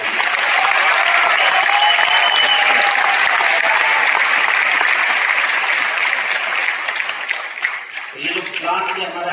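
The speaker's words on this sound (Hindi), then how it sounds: "आप लोग इस चीज से सहमत हैं और पैसा लिए हुए हैं तो दिल से मैनेजमेंट के लिए ताली बजाइए।" An audience at a business presentation gives loud, sustained applause for the management. The clapping is dense and close, then thins out near the end as a voice returns.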